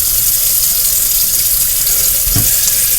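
Kitchen tap water pouring steadily into a sink to rinse rice, a loud continuous rushing stream with a brief splash near the end, no voices.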